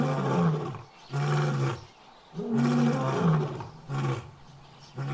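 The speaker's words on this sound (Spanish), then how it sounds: "rugen para avisar a otros leones de que están ahí y es su tierra" A lion roars to mark its territory, three or four deep, loud, drawn-out roars separated by short pauses, close and alone.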